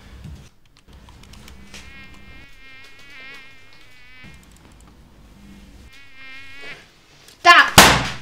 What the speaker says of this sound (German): Scheiß Mücke.